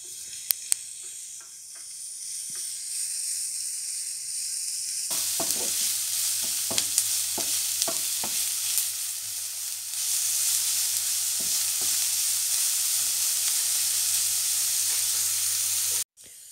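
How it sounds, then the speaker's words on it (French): Meat and shallots browning in a hot pan give a steady loud sizzle that swells sharply partway through, with scattered clicks of a utensil stirring and no talk. "Donc ma viande et mes échalotes sont bien dorées."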